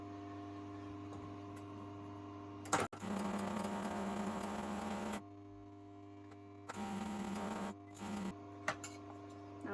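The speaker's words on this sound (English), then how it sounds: "I'm just going to overlock the hems on both" An overlocker stitching the hems of fabric pieces for a pair of children's shorts runs in bursts, a steady buzzing whir that starts and stops over a low mains hum, with brief clicks between runs.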